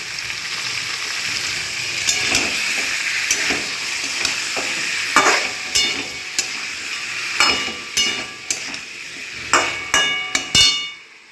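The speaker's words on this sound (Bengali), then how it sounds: "এর মধ্যেই পনিরটা দিয়ে দেবো, তাহলে পনিরটাও একটু কষানো হয়ে যাবে এর সাথে সাথে।" Paneer frying and being stirred into a potato and pointed gourd curry, a steady sizzle broken by sharp, irregular clanks of a spoon against the pan that grow more frequent toward the end.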